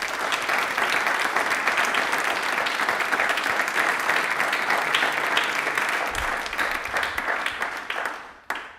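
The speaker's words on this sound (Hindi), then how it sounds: "तालियां अपने लिए एक बार जोरदार बजा दीजिए प्लीज।" A studio audience claps loudly and continuously, a dense wash of applause that holds steady and then fades out at the end.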